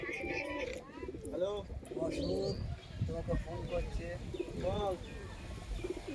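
Pigeons coo repeatedly in soft, rolling calls close by, while someone talks over them and small chirps mix in.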